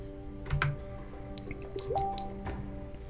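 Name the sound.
refilling a water bottle with water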